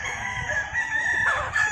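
A Flarry Eyed rooster crows in a long, strained call that holds steady and stays loud close by, with a low rumble of background noise beneath it.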